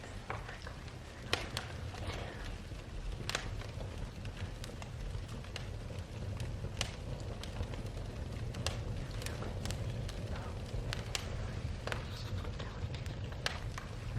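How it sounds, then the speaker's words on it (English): A wood fire burns in a home fireplace, with paper and a pizza box among the fuel, giving sparse sharp pops and crackles over a soft, steady background rush. "Nothing like the nice crackling sounds of the fire."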